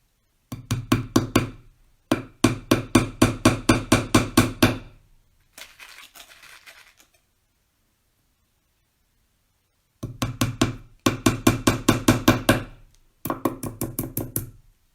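Hammer driving nails into a wooden sign, heard as rapid runs of sharp, loud knocks in bursts of several blows each, separated by pauses and a brief soft rustle in between.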